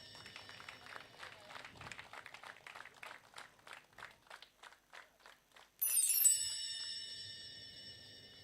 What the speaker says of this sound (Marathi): सर्वांनी जरा जोरदार टाळ्या वाजवा.